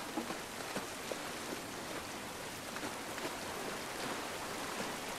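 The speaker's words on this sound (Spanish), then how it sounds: "Qué guapa la lluvia, tío." Steady rain pattering continuously on a surface in The Last of Us remake, an even, soft hiss of drops with no voices.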